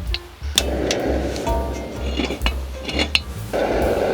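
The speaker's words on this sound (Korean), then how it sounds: "팬을 올려서 기름을 두르고." A pan is set on a camping stove at a snowy open-air campsite and oiled, with close metallic clinks and knocks of cookware over a steady roaring burner hiss.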